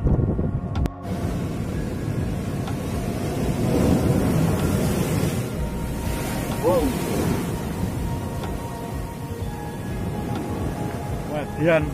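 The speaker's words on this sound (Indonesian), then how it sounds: "Tinggi ombak berkisaran antara 2 meter hingga 6 meter." High surf on the south coast of Malang, with waves two to six metres tall, roaring steadily and close, with wind buffeting the microphone and faint voices underneath.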